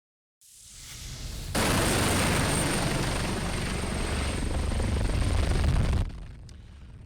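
A firefighting helicopter works over a brush fire in Griffith Park, its rotor and engine rising from a faint approach into a loud, steady close roar that holds for several seconds before dropping away, with no talking.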